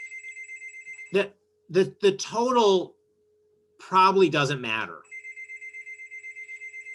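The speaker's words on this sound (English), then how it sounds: "Apologies for the phone ringing in the background." A telephone rings repeatedly in the background with a steady pulsing ring, while a person speaks over it in the middle.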